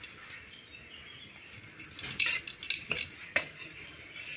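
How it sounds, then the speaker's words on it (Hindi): Oil is applied to a flaxseed paratha on a hot tawa griddle with a spoon or spatula, giving faint scraping and clinking touches over a quiet sizzle, with a few sharper taps toward the end. "जो हमारे तावे पे पराठा है उस पर हम तेल लगाएंगे"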